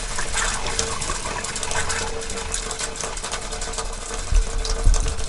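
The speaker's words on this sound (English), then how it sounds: "Okay, pump's on." A boat's water pump runs steadily, a loud continuous mechanical whir and rattle up close, with a couple of low thumps near the end and no voices.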